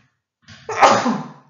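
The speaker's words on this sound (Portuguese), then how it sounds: "Vou espirrar" A single sneeze: a short intake of breath, then a sharp, loud burst that quickly fades, heard close by with no talking.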